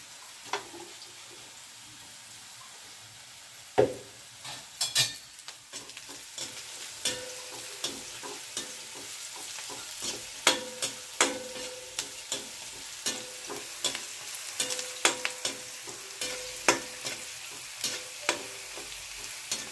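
Sabudana khichdi frying in a pan is stirred with a spatula, giving repeated scraping knocks in an irregular rhythm over a steady low sizzle, with the strokes growing more frequent and slightly louder toward the end; no voices.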